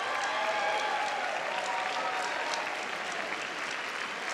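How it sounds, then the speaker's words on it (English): Sustained audience applause fills a school district's Teacher of the Year celebration, a dense even clapping wash from a large crowd that holds steady at moderate loudness throughout. "Let's give all of our Teachers of the Year another round of applause."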